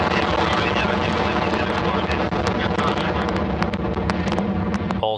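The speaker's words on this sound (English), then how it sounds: "Maximum thrust and liftoff." Rocket engines of the Progress 60 resupply vehicle roar at liftoff toward the International Space Station. The sound is a loud, sustained, broadband rumble with crackling bursts scattered through it.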